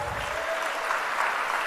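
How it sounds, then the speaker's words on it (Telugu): Church congregation clapping in praise of God during a Telugu sermon, a steady wash of many hands applauding together at moderate distance, even and sustained throughout. "నమ్మితే చప్పట్లు కొట్టి దేవుని స్తుతిద్దాం"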